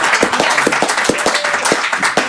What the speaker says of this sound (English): Can we give a round of applause for Mr. Brian Williams, who's sitting in on bass?